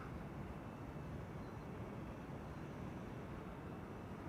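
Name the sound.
airplane departing at Amsterdam Schiphol Airport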